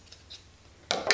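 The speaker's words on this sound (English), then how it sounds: "You're going to cut it in half once with your scissors" Scissors slice through pointe shoe ribbon in two quick, close crisp snips near the end, after a quiet stretch with faint rustling.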